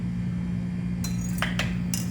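A few small pieces of calcium carbide dropping into a glass beaker, giving several sharp bright clinks in quick succession over a steady low lab hum.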